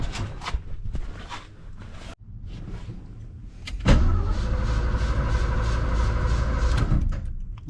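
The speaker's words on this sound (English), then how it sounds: "Starter works at least." The starter on a carbureted 1982 Ford F-150 truck cranks the engine in one steady, loud whirring burst lasting several seconds after a couple of short clicks.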